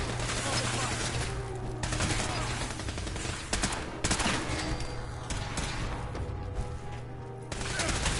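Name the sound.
pistol gunfire in Fallout 4 video game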